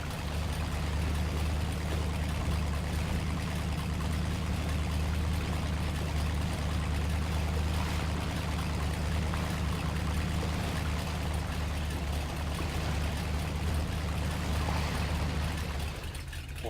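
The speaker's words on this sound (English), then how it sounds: "Oh, that's the waterfall." A waterfall in the Mudrunner video game, a constant rushing wash of falling water layered over a low engine rumble, unbroken and steady throughout, with no talk.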